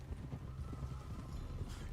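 Horse hooves clip-clop in a steady, close rhythm in the video game Red Dead Redemption 2, carrying on without pause and with no talk over them.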